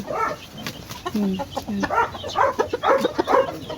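Native Hulo breed chickens clucking close by in a backyard flock, a busy overlapping run of short calls and rising clucks, fairly loud with a faint bit of background noise.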